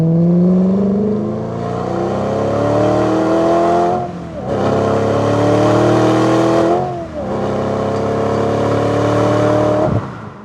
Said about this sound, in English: Under the bonnet is a dry sump V8 engine produced by Ferrari